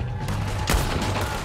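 Gunfire in the Red Dead Redemption 2 video game: a steady crackle of shots with one sharp, loud report near the middle, close and dense like a brief firefight.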